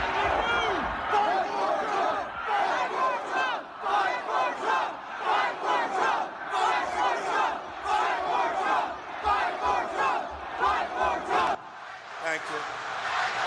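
A large crowd outside the Capitol shouting and chanting in rhythmic bursts, a dense wall of many voices rising and falling for several seconds, loud and continuous before dropping off near the end.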